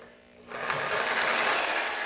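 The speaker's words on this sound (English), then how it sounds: "Now I'm going to use the Sawzall with a metal blade." Sawzall reciprocating saw fitted with a metal blade cutting through pipe during a bathroom renovation, a steady buzzing cut that starts after a brief quiet moment and runs loud and continuous to the end.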